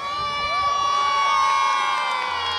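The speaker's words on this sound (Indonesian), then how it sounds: "suara penonton sangat bergemuruh, guys, di Festival Layangan Pasean ya" A large crowd of spectators cheers and shouts continuously at a kite festival in Pasekan, Magelang, a loud sustained roar with children's voices, while a high steady tone from a kite hums above it.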